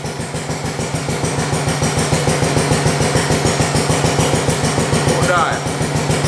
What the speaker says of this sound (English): The tractor runs great